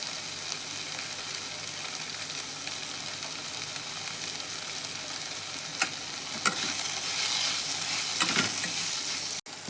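Egg roll stuffing of finely chopped pieces with coriander stirred in a hot pan, a steady sizzle and fry crackle running throughout with a few sharp scraping clicks of the spoon near the end.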